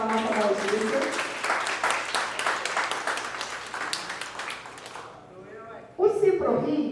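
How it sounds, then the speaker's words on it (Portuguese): Applause for Adalgisa at a teachers' tribute event, dense clapping from an audience for about five seconds, then fading out before a voice begins speaking. "Aplausos para a nossa Adalgisa"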